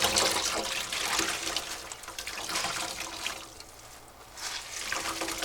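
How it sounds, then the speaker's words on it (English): Water sloshes and trickles steadily as a soaked shirt is rinsed out by hand aboard a narrowboat, a continuous close wet splashing with brief dips in level. "I'm now going to rinse it off."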